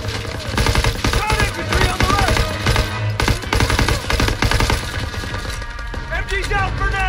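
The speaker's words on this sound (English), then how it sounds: "You gotta suppress the machine gun!" Dense, loud machine-gun fire in a World War II Call of Duty battle, rapid bursts rattling almost without pause, with shouting voices and other battle noise mixed in.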